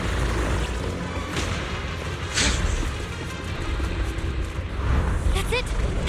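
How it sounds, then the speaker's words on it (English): Cocoon blasts in the Zenless Zone Zero video game rumble as heavy, booming explosions beneath a dense wash of battle noise, with a couple of sharper crashing peaks standing out from the continuous din. "The cocoon is sending out blasts at intervals. When they explode, get to the nearest cover immediately."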